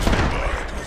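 A frag grenade explosion in the Apex Legends video game, a loud dense blast that roars continuously with broadband rumble for the whole moment, close and heavy.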